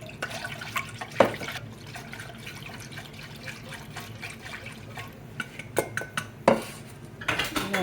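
Utensils scrape and clink against a bowl while shrimp batter made with buttermilk is stirred, with a few sharper knocks and soft wet sloshing, close up and without talk.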